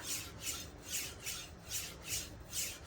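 A knife being sharpened on a Nano Hone diamond resin stone with light pressure, giving about six rhythmic rasping strokes, each a soft scraping swell, close and steady with no talking.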